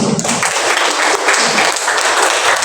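An audience at a church gathering breaks into loud, sustained applause, the dense clapping close and continuous from start to finish.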